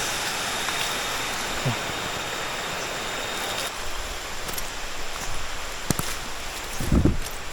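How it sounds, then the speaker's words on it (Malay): Buntong waterfall on a Malaysian hiking trail: a steady, even rush of falling water heard from some distance, with a few brief rustles and knocks nearby and no talking. "Air terjun kat situ je."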